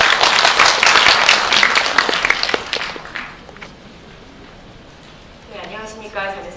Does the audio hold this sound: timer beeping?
no